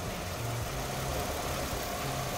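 A car engine idling, picked up close to the cover flap area of another person's car; a steady, low mid-pitched hum with a faint ticking texture runs evenly through the short stretch.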